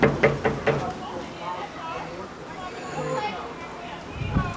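Several sharp knocks on a house window come in a quick burst at the start, fairly close and loud, followed by low, muffled voices talking in the background.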